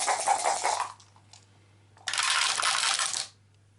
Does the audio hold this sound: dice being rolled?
yes